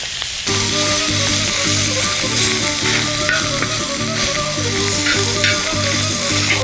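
Two pounds of meat fry on a discada, a loud, steady sizzle that starts abruptly and keeps crackling close by. A tonal hum and sharp ticking run through it, with no speech.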